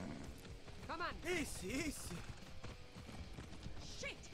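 Rhythmic hoofbeats clip-clop beneath someone speaking over a steady game-like background, with a brief whinny-like cry.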